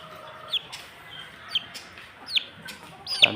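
Chickens clucking near a pumpkin hatch, four short sharp calls spaced about a second apart over a quiet background, the last one loudest.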